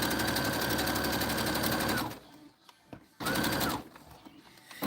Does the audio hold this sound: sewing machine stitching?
yes